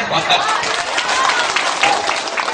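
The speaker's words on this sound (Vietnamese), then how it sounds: "quý vị cho một tràng pháo tay" An audience at a ceremony for a family ancestral hall in Vietnam applauds, brief dense clapping blended with crowd murmur and voices close by.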